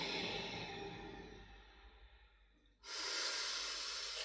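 A deep yoga breath: a long, soft, airy exhale trails off to near silence, then a sudden strong rush of breath follows, close and breathy with no talking.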